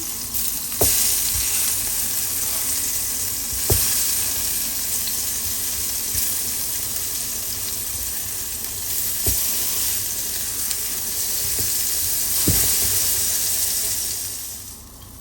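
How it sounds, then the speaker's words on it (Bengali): Eggplant slices frying in oil in a pan, a steady loud sizzle throughout with a few sharp clicks and knocks as the pieces are turned over, no voices. "এখন বেগুনগুলো আমি উল্টাই দিব। জাস্ট এই যে এরকম দুই পাশ ভাজিয়ে হলেই হবে"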